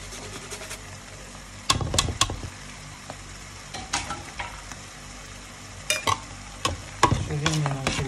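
Mushroom sauce seasoned with white pepper and nutmeg is stirred in a pan, a soft sizzle beneath irregular scraping and clinking of the utensil against the pan, with several louder knocks spread across the stretch, no voices.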